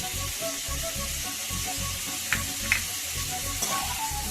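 Cashews, dried and green chillies and ginger-garlic paste sautéing together in a pan, with a steady close sizzle, rhythmic stirring underneath and a few sharp pops, no talking.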